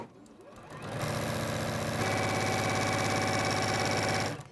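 A domestic sewing machine stitches in reverse, its motor running at a steady fast rhythm that kicks in after a brief start and speeds up slightly, close and continuous until it stops.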